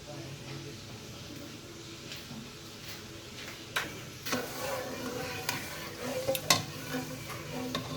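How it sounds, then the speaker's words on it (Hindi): Sugar syrup for gulab jamun is stirred over the flame until the sugar dissolves, a quiet low bubbling with scattered spoon clicks and scrapes against the pot, louder toward the end. "इस तरह हिलाते जाएं जब तक चीनी अच्छे से इसमें डिज़ोल्व नहीं हो जाती"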